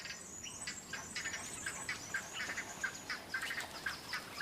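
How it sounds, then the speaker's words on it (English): A flock of birds roosting high in a forest canopy, many faint, overlapping squeaks, chirps and rasping calls chattering continuously at a distance with no talking. "These peculiar birds roost in the forest canopy, where they are beyond the reach of danger."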